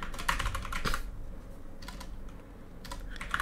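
Rapid clicking on a computer keyboard during an Overwatch 2 gaming session, in bursts of quick keystrokes with short pauses, close and clear with no talking.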